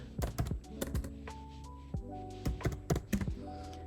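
Keys on a computer keyboard are typed in short irregular bursts, clicky taps grouped with brief pauses, close and fairly quiet.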